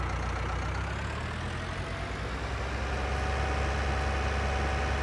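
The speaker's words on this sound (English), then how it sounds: "The engines don't quite sound throaty enough for how these Renaults used to sound to me." A Renault tractor engine in a farming video game mod idles steadily, a low, even drone that stays constant and fairly loud throughout with no talking.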